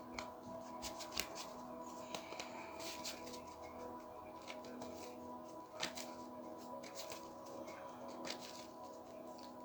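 Tarot cards are shuffled by hand, with quiet, close riffling and soft clicking flicks in an irregular rhythm over a faint hum.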